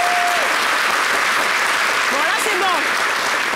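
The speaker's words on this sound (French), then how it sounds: "Est-ce qu'on peut s'applaudir encore une autre fois?" Studio audience applauding loudly and steadily on a French local television show, with a person speaking briefly over the clapping.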